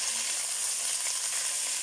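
Three large sliced onions frying in a pan with oxtail, giving a loud, steady, hissing sizzle that runs without a break, close up, with no talk.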